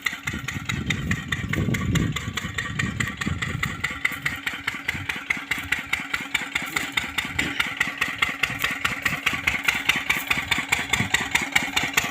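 A mid-pitched well pump engine runs steadily and rhythmically, chugging with a regular pulse throughout, close and continuous.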